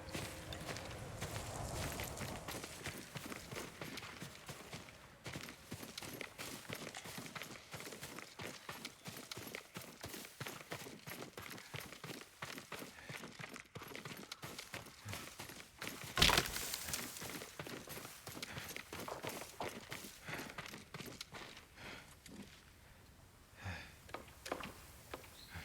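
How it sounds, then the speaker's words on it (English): Yuriko's horse in the Ghost of Tsushima game plods with soft hoof clops and occasional snorts, close by, one sharp louder burst partway through, with no talking. "Yuriko's horse."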